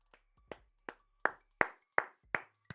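A single person claps slowly during a live Miami Heat versus Trail Blazers basketball stream, about eight separate, sharp hand claps at an unhurried, slightly uneven pace in an otherwise quiet room.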